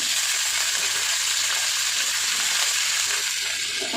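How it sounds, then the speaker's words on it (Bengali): Yardlong beans frying in hot oil in a home kitchen, a loud, steady, dense sizzle with no pauses, close by and running alone. "বরবটিটাকে আগে ভেজে নেবো।"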